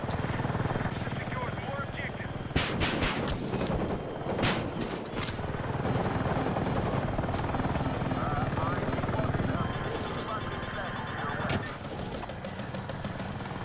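An attack helicopter in Battlefield 6 keeps up a steady rotor drone through a busy game scene, with sharp weapon bursts and explosions cutting in, under a voice talking throughout.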